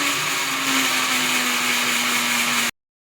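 A kitchen blender purees ingredients for a paneer curry. It runs as a loud, steady whir for a few seconds and then cuts off abruptly, with no one talking.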